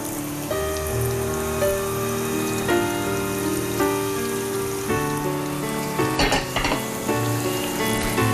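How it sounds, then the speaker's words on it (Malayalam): Steady crackling sizzle of cauliflower deep frying in hot oil, with a tonal hum in the background and a few louder bubbling bursts near the end. "ഇത് വറുത്തെടുത്തു കഴിഞ്ഞാൽ അത് ക്രിസ്പി കോളിഫ്ലവറായി മാറും."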